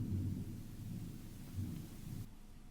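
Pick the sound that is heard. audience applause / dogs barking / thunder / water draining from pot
thunder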